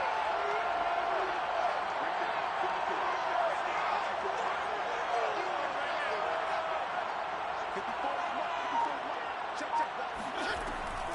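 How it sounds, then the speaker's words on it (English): Crowd noise at a football game ahead of a big third down, a steady roaring wash of many voices from a distance, constant throughout with scattered whoops and faint thumps. "The crowd getting into it as we come up on a big 3rd down."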